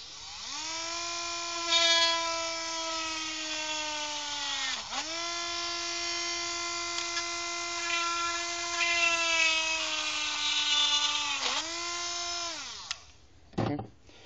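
Power drill boring holes through a faceplate hinge template, three sustained whining runs that spin up, hold a steady high-pitched tone for several seconds each, then wind down, followed by a brief clatter at the end.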